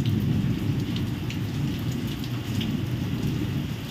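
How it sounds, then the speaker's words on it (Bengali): Heavy rain pours down steadily, a dense, continuous hiss and patter of drops striking surfaces close by, with a deep low rumble underneath and no voices. "দেখো বৃষ্টি না বৃষ্টি।"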